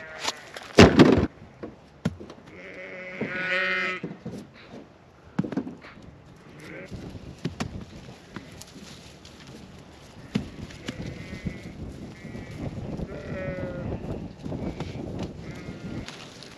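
Sheep in a farm pen at lambing time bleat several times, with a few close, loud calls among clatters and handling noises, and a voice speaks briefly.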